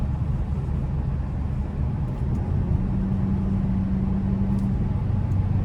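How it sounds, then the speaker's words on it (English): A 2025 Hyundai Elantra N Line with a 1.6-litre turbo four pulls hard after a downshift, a steady droning engine note from inside the cabin with a rising tone partway through. "be able to just downshift and kind of give it a pull like that"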